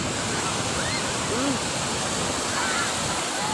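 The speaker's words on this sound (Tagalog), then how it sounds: "bubulwak na yung alon ngayon" Broadband rushing wash of ocean waves breaking at Lingayen Beach, Pangasinan, steady and loud throughout, with faint distant voices briefly rising over it.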